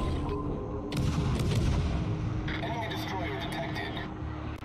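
Naval guns firing in World of Warships, a heavy boom followed by rumbling bursts and distant impacts under continuous engine and sea noise, with someone talking throughout.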